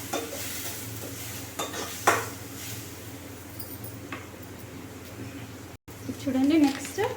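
Spoon stirring homemade coriander masala in a cooking pan, soft scraping and light sizzling with a couple of sharper utensil taps, under a steady background hum.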